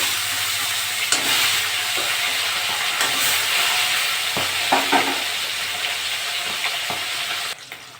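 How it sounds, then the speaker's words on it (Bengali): Fish frying in mustard oil, a close, steady crackling sizzle with occasional spatula taps and scrapes, dropping slightly in level near the end. "বাকি মাছগুলো আমি একই ভাবে ভেজে নেবো"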